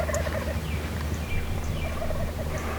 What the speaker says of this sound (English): we spot several gobblers in the trees just out in front of us